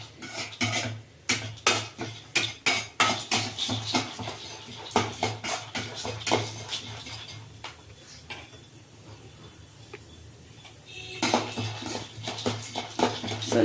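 Chana dal and urad dal dry-roasting in a pan, the lentils rattling and scraping as a spoon stirs them in steady rhythmic strokes, close by, with a quieter stretch before the stirring picks up again.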